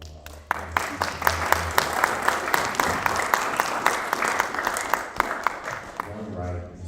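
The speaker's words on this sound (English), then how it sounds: "Let's give another round of applause." A TEDx audience breaks into sustained applause, crisp individual claps standing out from the dense wash of hands, holding steady for several seconds before fading out.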